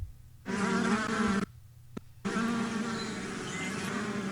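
A honeybee buzz played by the Soundtouch app: a loud, close, steady drone that starts, breaks off for about a second, then resumes and continues to the end, with a brief click in the gap.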